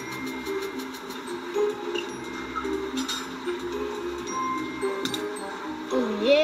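A train rumbles and clanks in the Break In 2 video game, with a low steady roll and metallic clinks set against a game soundtrack, then a brief rising tone near the end.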